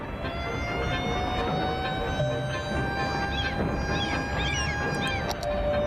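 A wailing fire-engine siren in Cities: Skylines rises and falls steadily, loud and continuous, with faint bursts of other noise scattered through it.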